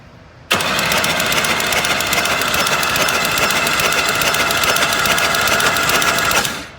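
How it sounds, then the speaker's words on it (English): A 3.1L V6 with a suspected broken camshaft is cranked by its starter button, a loud, steady, rapid whirring drone that starts abruptly and runs without firing for about six seconds before winding down. "I'm going to just use my starter button to crank over the engine here."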